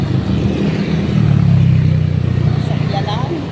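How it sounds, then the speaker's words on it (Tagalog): Fast cars and motorcycles rush past on a road in Binangonan, Rizal, with a loud, steady engine roar that swells and fades as the vehicles go by, and a voice is briefly heard near the end. "tingnan nyo, ang bibilis sa mga sasakyan dito"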